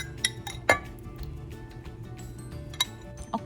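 A spoon clinks against a dish while mild red salsa is spooned onto a layered appetizer, giving a few sharp, close taps scattered over quiet kitchen background.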